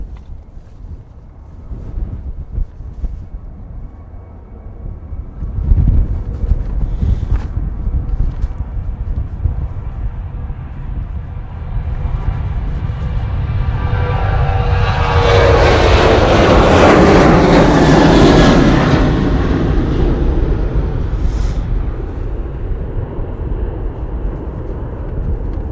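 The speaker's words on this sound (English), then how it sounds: "Right, TUI 737. Now on the roll." A TUI Boeing 737 taking off at Manchester Airport builds from a distant rumble into a loud, broad engine roar that swells and then slowly fades, with wind buffeting the microphone throughout.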